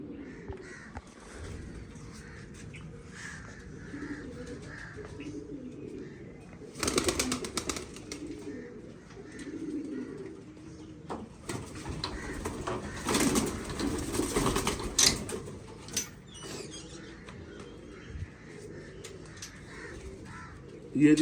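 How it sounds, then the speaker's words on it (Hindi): Pigeons coo and murmur softly throughout, with crow-like caws and wing flutters in bursts, heard outdoors at moderate distance; someone speaks intermittently over the birds. "ये जी हमारे मशहूर कबूतर जो हैं, हर साल किसी न किसी शक्ल में मंजराम पे रहते हैं"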